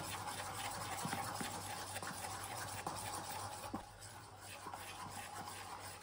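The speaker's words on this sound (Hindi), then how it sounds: "इसे 5 मिनट के लिए इसी तरह मिक्स कर लेंगे" A spoon mixes besan batter in a bowl, making a soft, steady scraping and swishing that carries on throughout. The sound is faint and close, with no speech.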